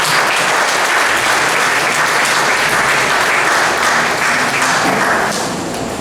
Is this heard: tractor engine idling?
no